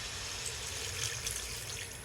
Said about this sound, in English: I'm gonna add a little more water.